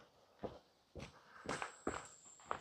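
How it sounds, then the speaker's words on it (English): Footsteps in hiking boots crunch along a trail outdoors, five or six distinct steps at a relaxed walking pace, fairly quiet and close. "I have put my hiking boots on, so I'm kind of slightly aware of my footsteps again."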